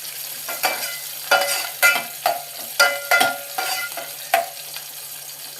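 Onions fry in a pan with a steady sizzle, broken by repeated scraping stirs that come every second or so, close and moderately loud, during vegetable biryani cooking.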